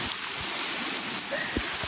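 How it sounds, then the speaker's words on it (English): Heavy rain pours steadily through a forest at Macedonia Brook State Park, a dense, continuous hiss of drops close by with a few louder splats and no talk. "this is what it looks like when it's pouring rain"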